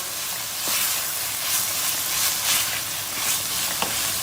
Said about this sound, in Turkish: Salçayla beraber bunu da iyice kavuracağız.